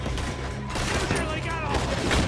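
Gunfire in the video game Red Dead Redemption 2, a dense, loud exchange of shots crackling without pause across the moment, with a voice speaking over the shooting.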